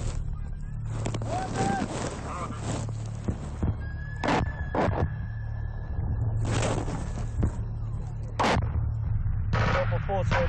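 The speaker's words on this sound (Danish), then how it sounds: "Derfor må de kalde på hjælp fra artilleri til at ramme Taliban." Artillery fire on a Taliban position in Afghanistan, heard as several heavy booming blasts, some sharp and close, others dull and distant, over a constant radio-like hiss and bursts of military voices.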